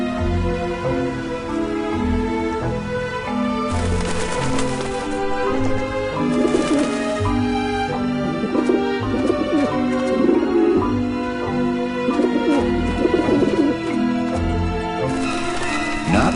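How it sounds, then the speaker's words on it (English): Pigeons or doves coo in the Grim Fandango video game, repeated low rolling coos over a sustained musical score, close and fairly loud throughout. "Back off, birds!"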